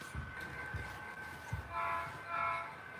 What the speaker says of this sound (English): I'm gonna get the train started